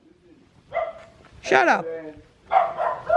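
A dog on a mountain barks in a few sharp, spaced bursts, close and fairly loud, while someone speaks briefly.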